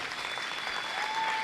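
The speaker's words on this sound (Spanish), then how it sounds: "les damos un aplauso a los chicos" Brief, soft burst of applause from a church congregation for the band, a steady wash of clapping heard alone for about a second and a half.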